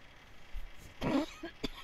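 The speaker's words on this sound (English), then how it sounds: "Excuse my cough." A single short cough, close and fairly soft, with a throat-clearing catch and a small follow-up, in a quiet room.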